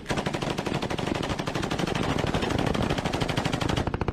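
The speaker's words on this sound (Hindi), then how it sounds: "तेजी से गुजरती गाड़ी और इराकी फोर्स के जवानों ने दर्जनों राउंड फायर किया।" Iraqi forces pour sustained automatic gunfire at a passing ISIS vehicle, a dense, loud, rapid string of shots that runs without a break for about four seconds, with no voices.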